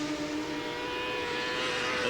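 Racing motorcycles scream past at a British championship race, a Kawasaki and a Honda among them, their engines blending into a steady, loud, high-pitched drone that holds for two seconds with no talk.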